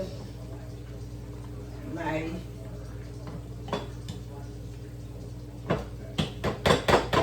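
Broccoli and potato yam being crushed in a metal pot on the stove, quiet at first, then a run of rhythmic clanking utensil strikes against the pot toward the end, with a voice speaking.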